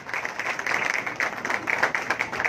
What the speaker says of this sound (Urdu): زور تالیاں بھائی بجائیں گے